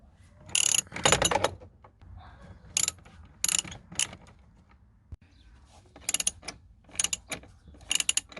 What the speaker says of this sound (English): So you're gonna need a 7mm socket and ratchet.